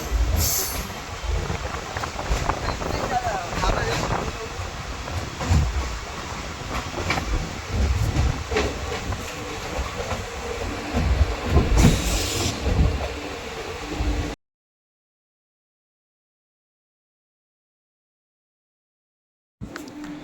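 A train ride heading into Umargam railway station: a steady, loud rumble and rattle of the rolling carriages fills about fourteen seconds, then cuts abruptly to silence before a brief burst of noise returns at the very end.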